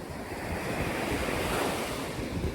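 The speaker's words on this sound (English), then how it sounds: "being able to live right near the ocean. People wake up in the morning and hear that." Ocean waves washing onto a beach in Pattaya, a continuous loud roar of surf with wind buffeting the microphone, no voices.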